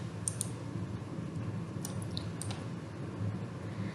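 Mouse clicks while working in Fusion 360, a handful of sharp, faint clicks scattered irregularly over quiet room tone, close to the microphone with no talking.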